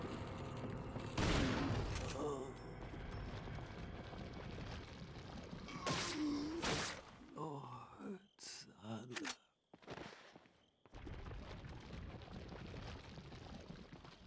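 Shotgun blasts in a Resident Evil game ring out as a few loud, sharp bangs spaced seconds apart, with game effects and a player's voice reacting between shots.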